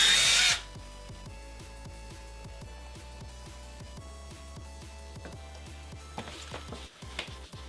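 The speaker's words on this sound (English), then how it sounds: "I'm going to first drill the holes out a little bit larger" A power drill drills holes in wood, running steadily with a repeating mechanical rhythm at close range after a brief loud burst at the start, the motor whining on without pause.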